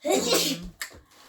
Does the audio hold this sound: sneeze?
yes